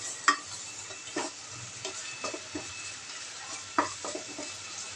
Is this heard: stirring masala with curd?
yes